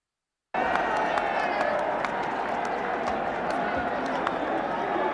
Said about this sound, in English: Manchester United, they've done the right thing all afternoon, clapping Liverpool down as a marvellous gesture